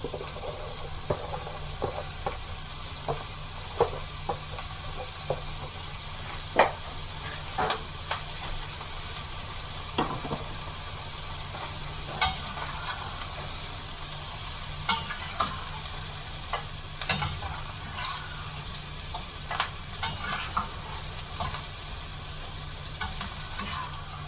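Cabbage sizzles steadily in a frying pan while being stirred, with scattered scraping and clicking from the utensil over a constant, fairly close frying hiss; no talking.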